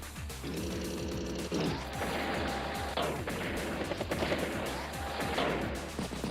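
Battle effects from the Advance Wars by Web strategy game as a battlecopter, tank, recon and artillery trade fire: dense, loud, overlapping bursts of gunfire and explosive blasts mixed with looping game music, with no talking.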